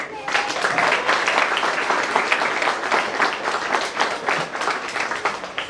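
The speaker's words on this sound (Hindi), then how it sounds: "जितनी तालियां आप बजाएंगे बच्चे और उत्साहित होंगे।" An audience claps steadily throughout at a Hindi language gathering in Suriname, a dense, fairly loud applause with no voices over it.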